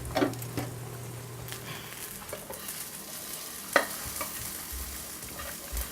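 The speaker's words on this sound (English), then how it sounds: "Let's see how our sautéing is going." Food sautéing in a pan makes a low, steady sizzle, with a few sharp clinks and scrapes of stirring now and then, and no voices.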